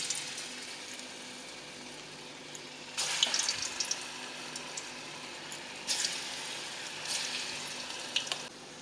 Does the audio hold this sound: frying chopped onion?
yes